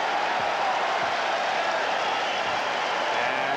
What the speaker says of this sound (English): And Cartwright hears the cheers from the crowd.